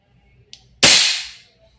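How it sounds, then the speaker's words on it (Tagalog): A single sharp shot from an Umarex HK416D Gen 3 airsoft gas blowback rifle, a loud close crack with a hissing decay, preceded by a small click, alone without talk. "Tapos, putok."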